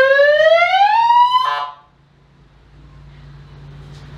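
A freshly installed cop siren winds up in a loud, rising electronic wail and ends in a brief harsh burst, then stops, leaving a quiet low hum.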